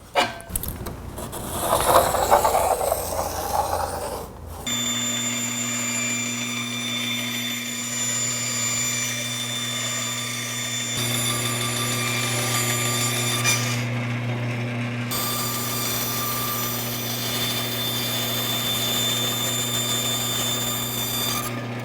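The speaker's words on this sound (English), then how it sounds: "got the pieces cut out, rough cut on the bandsaw" A bandsaw rough-cuts wooden pieces: after a few seconds of handling noise the motor settles into a steady, close humming drone with a high whine, changing slightly as the blade works through the wood.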